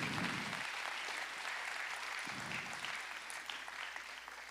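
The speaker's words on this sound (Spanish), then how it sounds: "¿Puedes darle un fuerte aplauso al Señor?" Church congregation applauding, dense continuous clapping from many people filling the hall, fairly faint and steady for several seconds.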